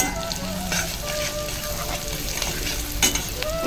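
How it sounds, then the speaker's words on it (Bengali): Onion frying with salt and turmeric as it is stirred in a pan, a dense, loud, steady sizzle with soft stirring scrapes and one brighter clink near the end, with no voices. "দিয়ে গেলে ভালো করে নেড়ে দেবো আমি"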